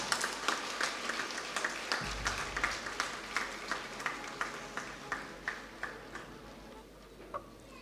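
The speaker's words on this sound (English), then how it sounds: "Please give her a big round of applause." Audience applause at a dental institute's graduation ceremony and annual day, steady clapping from a large crowd that fills the hall and slowly thins toward the end.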